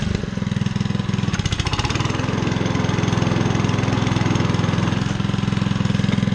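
A Honda HRU196 lawn mower engine runs steadily at full throttle, a loud, close, continuous drone with a brief rattling burst near the start.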